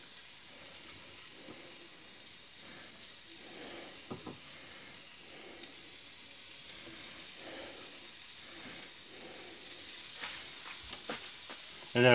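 Turkey sliders sizzle faintly inside a Ninja air fryer, a soft continuous hiss with occasional light clicks and clatters, ending with a louder knock.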